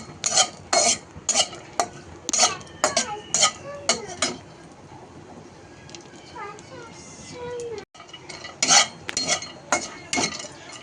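Cashews, raisins and nuts fry in ghee in a wok while a utensil scrapes and clinks against the metal in a quick, repeated rhythm, with a light sizzle underneath; a voice speaks briefly partway through.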